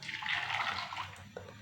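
Strained jaggery syrup poured from a pot into a pan on the stove for aval halwa, a soft close trickling pour lasting over a second, followed by a faint clink, with no talking.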